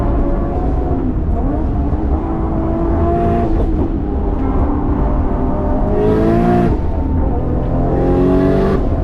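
An 850 hp Nissan Skyline R34 GT-R V-Spec pulls hard on the Nürburgring, its engine roaring loudly and continuously from inside the car as revs climb and drop through upshifts.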